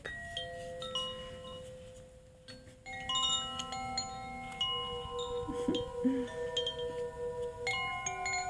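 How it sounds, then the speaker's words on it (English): A meditation chime is struck a few times in a quiet room, each bright metallic ring sustaining and overlapping the last as it slowly fades. "So I think I will do one more chime, just because I like the chimes, I like the noise."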